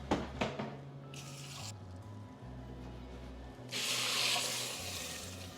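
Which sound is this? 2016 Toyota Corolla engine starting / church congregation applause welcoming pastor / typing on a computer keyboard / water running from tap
water running from tap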